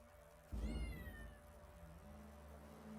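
A single rising meow from a cat, fairly close, with a soft low rumble behind it and no talking.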